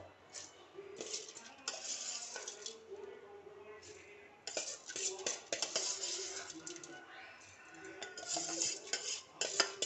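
Washed moong dal being tipped and scraped into a mixer jar in a home kitchen, with irregular clinks and rattles of a spoon against the metal jar, close and moderately loud, arriving in bursts separated by brief pauses.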